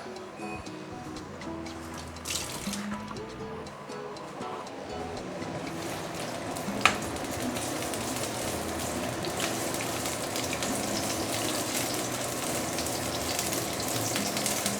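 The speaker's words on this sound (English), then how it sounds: "Add in some oil. You want to saute ginger." Ginger sautéing in very hot oil for Malaysian fried noodles, a continuous close sizzle that swells and steadies over the full stretch, with a brief metallic knock midway and no speech.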